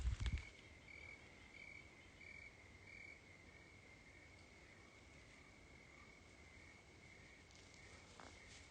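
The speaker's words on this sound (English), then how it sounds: "You can hear the crickets, lots of crickets and some birds in the background." Crickets chirp in a steady, faint, continuous drone in a ponderosa pine park at Liberty Lake, with a soft thump at the very start and quiet outdoor ambience throughout.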